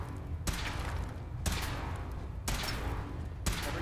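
Power armor weapon test-firing in Fallout 4: four evenly spaced, punchy blasts about one second apart, each decaying into a rumbling tail, close and steady.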